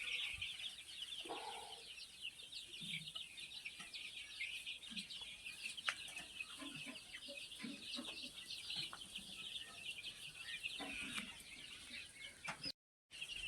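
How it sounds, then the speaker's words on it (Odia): Vanaraja and native chickens on a poultry farm of more than 500 birds cluck softly and continuously, with scattered brief calls and faint chirps in a quiet setting. "ମୁଁ ବର୍ତ୍ତମାନ ମୋର ଗୋଟେ ଛୋଟ ବନରାଜ କୁକୁଡ଼ା ଚିଆଁ ଫାର୍ମ କରିଛି।"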